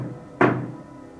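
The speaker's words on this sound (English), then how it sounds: "This is two knocks." A single hollow wooden knock or thud sounds once during a ouija session in an old Victorian school, close and fairly loud, then fades into a quiet room.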